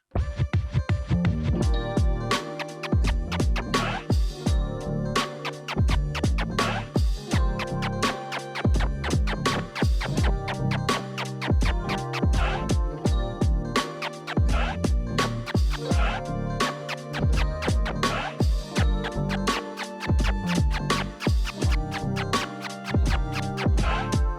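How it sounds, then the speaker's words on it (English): Rapid DJ turntable scratching in repeated triplet-stab bursts, sharp rhythmic stabs cutting in and out over a steady beat, loud and continuous with no talking. "This is what the triplet stab sounds like."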